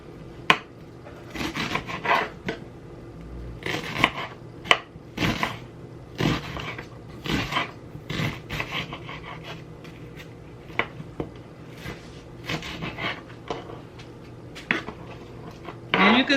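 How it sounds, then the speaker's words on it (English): An onion is diced with a knife on a cutting board while making salmon burgers, giving irregular close knocks and scraping taps with brief pauses, over a steady low background hum. "begin dicing this onion up into nice bite-sized pieces"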